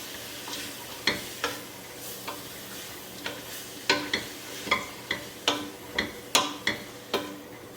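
Leeks and celery stirred through butter in a soup pot, with a steady series of sharp spoon-on-pot scrapes and clacks about every half second over a soft sizzle, close and fairly loud.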